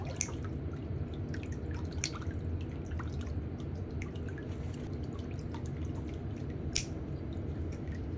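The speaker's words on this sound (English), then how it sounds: "The first step is soaking the feet in warm water for at least 10 minutes" Feet soak in a basin of warm water before toenail trimming, with scattered faint drips and small splashes over a steady low background hum.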